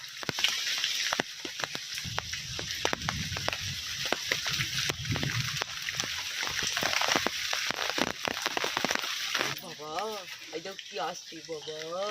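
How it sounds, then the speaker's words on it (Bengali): Heavy rain falls on a village with a pond nearby, a steady hiss of drops on wet surfaces that carries on throughout, with sharp splashes and clatters and a person speaking toward the end. "বৃষ্টি হচ্ছে"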